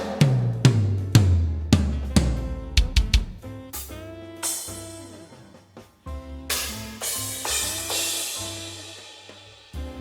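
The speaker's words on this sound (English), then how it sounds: "I am using a program called Superior Drummer 2 with one of my own presets." Programmed metal drums from the Superior Drummer 2 software with a custom preset, loud and up front: rapid kick and tom hits and fills with crashing cymbals, then a steady groove with ringing cymbals and accompanying instrument tones.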